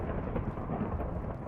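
A thunderstorm in the video game Minecraft, a steady low rumble of thunder with rain filling the background, dense and continuous throughout.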